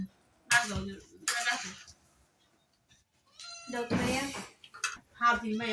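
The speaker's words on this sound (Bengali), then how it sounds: "আরে বিলাইটা বিরক্ত করতেছে" A cat meows several times in short, loud bursts, separated by pauses, close to the listener.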